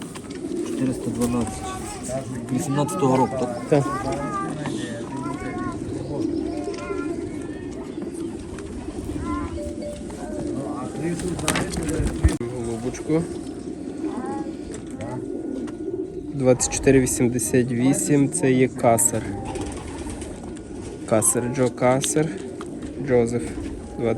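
Pigeons coo at a pigeon auction, soft repeated calls mixed into a steady stream of auctioneer talk and room chatter, with busier bursts of calls near the end.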